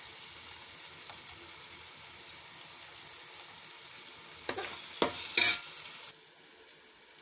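Chili powder and salt frying in oil for a fish curry, a faint steady sizzle with small ticks and pops, swelling into a louder stirring hiss and scrape near the end before settling back down.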